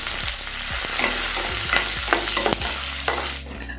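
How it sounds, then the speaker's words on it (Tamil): Lentils fry in a pan for a spinach stir-fry, with steady sizzling under repeated scraping spoon strokes that sound close and fairly loud, no voices. "பருப்பு, இது நல்லா கொஞ்சம் ஃப்ரை ஆகட்டும்."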